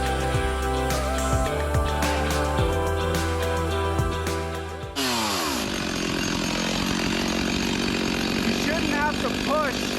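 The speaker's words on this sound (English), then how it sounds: "It should never feel like work running a chainsaw through a piece of wood." A chainsaw runs loudly, its engine revving as it bites into wood, then the pitch shifts as the cut continues; a voice speaks underneath.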